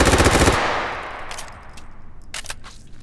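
Gunfire in the VR shooter H3VR: a loud, rapid automatic burst opens, then a reverberant tail fades and a few fainter, scattered shots follow farther off.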